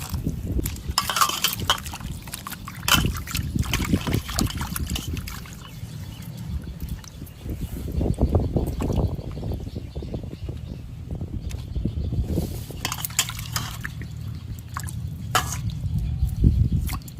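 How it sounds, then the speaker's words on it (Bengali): Three hilsa fish washed by hand in a basin: irregular splashes, drips and sloshing water with occasional light clinks from the vessel, close and fairly loud throughout. "এবার মাছগুলো ভালো করে ধুয়ে নেব।"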